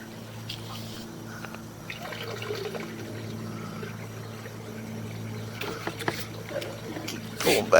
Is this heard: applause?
no